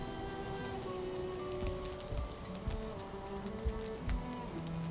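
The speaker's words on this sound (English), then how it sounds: "Oh, but it's raining." Steady rain falling in the Valheim video game, a dense even hiss of drops pattering on surfaces with faint bird calls scattered through the background, no voices.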